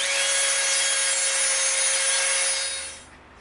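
A sharpened brass tube is spun into EVA foam to punch out holes, giving a steady, close grinding rasp that holds for about three seconds and then stops abruptly.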